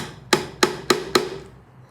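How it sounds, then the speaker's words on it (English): Four sharp, evenly spaced hammer blows ring out close by, each driving a nail into a wooden stash box with a bright metallic knock. "I'm using a nail now instead of drilling it"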